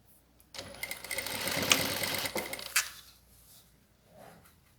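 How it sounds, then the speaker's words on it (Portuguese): A sewing machine stitches along the fold of fabric binding on a plastic pouch, a loud rapid whirring burst lasting about two seconds before stopping, with faint handling noise afterward. "Continuo costurando no vinco, na dobra do debrum."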